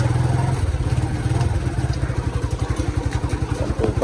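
A 125 cc motorcycle runs close by in first gear, its engine a loud, steady low chug of rapid, even pulses that holds a fairly constant pace.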